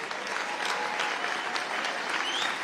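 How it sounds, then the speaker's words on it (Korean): A large crowd at a prayer and revival gathering on the National Mall applauds in a steady, dense roar of clapping that holds loud and unbroken throughout, with a faint whistle near the end. "다 같이 일어나서 지금 기립박수를 하는 모습"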